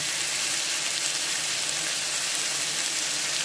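Tomatoes sizzle as they fry for chicken biryani, a dense, even hiss close by while being stirred, with no voices over it.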